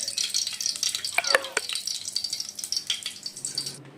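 Whole spices, cinnamon pieces and three cloves, frying in melted ghee for Kolkata-style chicken chaap: a close, steady hiss and crackle with a few clinks of a spoon stirring in the pan.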